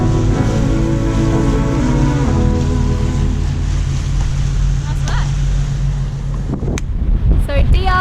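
A sailing yacht underway at sea on an overnight passage, with steady wind noise and wash of waves against the hull, a continuous low rumble throughout and a few brief knocks near the end.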